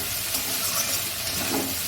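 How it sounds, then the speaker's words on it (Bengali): Fried cauliflower tossed into a pan of spice paste that is nearly cooked down, producing a steady close hiss and sizzle with faint stirring scrapes, no voices. "মশলাটা প্রায় কষে এসছে, এর মধ্যে দিয়ে দেবো আমি কপিগুলো।"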